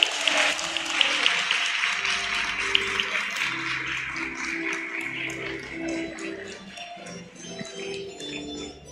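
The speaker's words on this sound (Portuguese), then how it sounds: "Saudemos o novo bispo de Quixadá com uma calorosa salva de palmas." Warm applause from the faithful in a cathedral greeting a new bishop at an episcopal ordination, a dense, sustained clatter of many hands lasting several seconds, with some faint voices mixed in.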